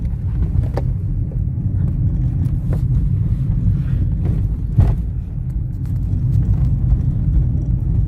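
A manual car's engine drones steadily from inside the cabin while it revs and shifts into third gear, with a low, constant rumble and some wind noise throughout.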